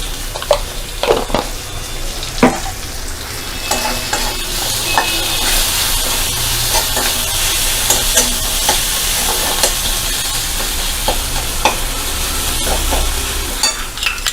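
Spice masala with homemade garam masala sizzles as it is sautéed in a pan, with close, frequent scrapes and taps of a spoon stirring it over a steady hiss.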